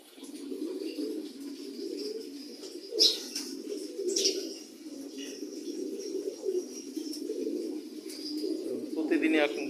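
A flock of pigeons coos continuously inside an enclosed loft whose windows are shut for cold weather. The overlapping, throaty cooing forms a steady low murmur, and a few sharp clicks and knocks stand out along the way.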